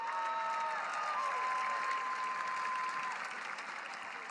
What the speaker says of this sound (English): His wife clapping hard for that one.